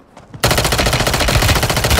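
Sustained rapid gunfire in a battle royale video game, a sudden dense barrage of automatic shots that starts abruptly and stays loud and close to the end.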